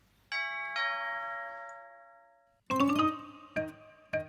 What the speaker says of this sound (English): An hour later, the doorbell rang again.